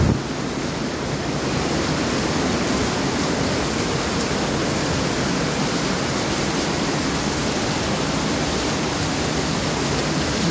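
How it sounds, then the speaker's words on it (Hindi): Waterfall at a picnic spot in Khuzdar, water falling with full force from above, a steady loud broadband rush of pouring water that stays constant throughout, with no voices. "झरना देखें, झरना"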